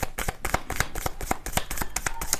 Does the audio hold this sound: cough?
no